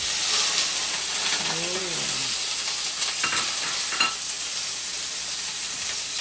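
Steady loud sizzling of pork tapa (kasim) frying in its own rendered fat, with a few stirring scrapes and clinks of a utensil against the pan.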